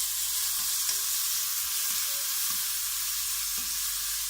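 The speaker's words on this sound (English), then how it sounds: "I'm going to saute this, or you could really call it sweating, for just a couple of minutes." Chopped leek sweating in a little oil in a pan, with a soft, even sizzle and a few faint utensil taps throughout.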